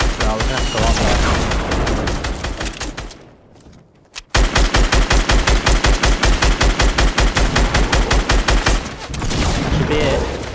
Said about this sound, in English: Shoot it out, shoot the bottom out, shoot the bottom out.